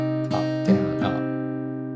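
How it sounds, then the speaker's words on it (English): Guitar chord arpeggiated string by string, three soft attacks letting the notes ring and blend, played close and gently. "you can just focus on individual strings here and just arpeggiate that chord"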